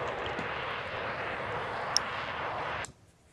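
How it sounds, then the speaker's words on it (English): Engines of a Short Stirling bomber start up in a flight simulator, a steady broadband roar that holds loud and even, then cuts off abruptly near the end, leaving a faint hum. "I always find that engine start noise is a bit weird"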